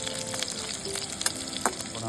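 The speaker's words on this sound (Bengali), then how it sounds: "আমাদের এখানে আলু ভাজা হচ্ছে" Potatoes fry in a pan at a winter campsite, a close, continuous sizzle with a few brief clicks and crackles over the short span.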